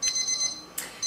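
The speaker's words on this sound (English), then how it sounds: "So you can hear my timer in the background." A kitchen timer rings in the background while bread bakes, giving short bright electronic beeping bursts repeated in a steady pattern with a pause between them, moderately loud against a quiet room.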